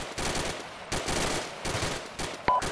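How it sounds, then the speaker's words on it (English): Machine-gun fire in a basic-training military game, heard as repeated rapid bursts of shots. Each burst is a loud, dense rattle lasting close to a second, with brief gaps between bursts and a sharper crack near the end. "Let me keep it just standard rate of fire, so 1 round every 3 seconds for a machine gun"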